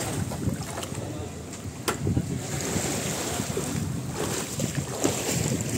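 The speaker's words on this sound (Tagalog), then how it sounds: "Kasi malakas ang hangin, amihan." Strong northeast monsoon wind at sea buffets the microphone in a steady, loud roar, mixed with the wash of waves and water against a boat.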